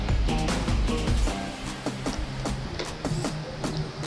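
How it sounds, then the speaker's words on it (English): A servo motor in an Arduino-built automatic smart dustbin powers up, giving a low thump and rattle followed by a string of short whirring buzzes that rise and fall at irregular intervals, close and fairly quiet. "So whenever I give power, the servo motor starts working."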